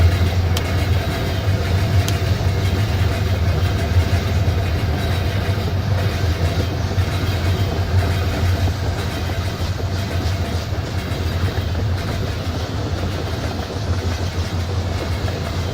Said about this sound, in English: It sounds almost like the train cars have their own engines.